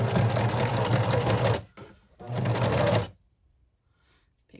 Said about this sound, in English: I'm going to sew this here. And I am going to back stitch here